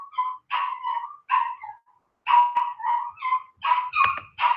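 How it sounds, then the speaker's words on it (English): A dog barks in short yips and whimpers in a run of repeated bursts, close and fairly loud, with brief pauses between the outbursts. "Oh my God, my dog is really throwing me off right now."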